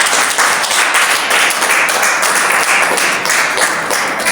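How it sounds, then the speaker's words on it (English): An audience claps steadily in a dense wash of applause after a talk on occupational health and safety, holding loud and even from start to finish with no voices rising above it. "Can we clap for them?"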